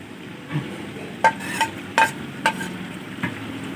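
Chicken for a 10 kg yakhni pulao fries in a large pot with a low background sizzle, broken by several distinct clanks of a utensil stirring against the metal, with no talking.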